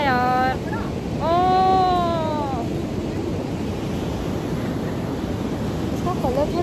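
Ocean surf on a grey beach in Goa washes in as a continuous broad roar with wind buffeting the microphone, while someone speaks briefly over it near the start.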